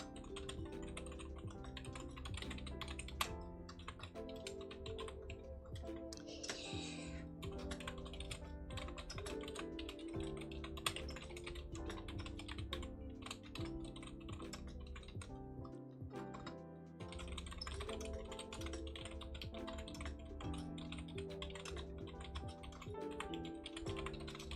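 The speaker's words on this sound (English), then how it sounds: "The keyboard? It's pretty loud already, I think." Computer keyboard typing during a long live stream, a steady run of quick, light key clicks continuing for the whole stretch at a fairly quiet level over a constant tonal background, with no voices.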